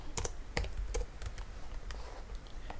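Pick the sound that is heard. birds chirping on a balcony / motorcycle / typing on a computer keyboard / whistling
typing on a computer keyboard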